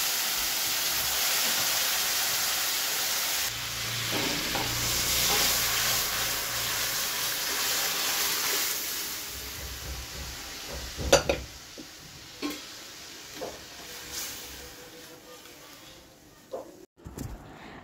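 Pot of matar dal cooking on a home kitchen stove alongside bitter gourd frying, giving a steady hiss and sizzle with occasional sharp clinks of a spoon or utensil against the pan, fading quieter near the end.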